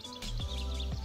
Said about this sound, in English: hear the sound of birds tweeting